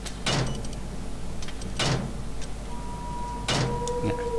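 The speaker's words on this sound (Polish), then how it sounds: "Aha, mogę zamknąć te drzwi." A door in the horror game Amnesia: A Machine for Pigs gives three sharp, heavy clunks about one and a half seconds apart over a low, steady ambient hum, with no talking.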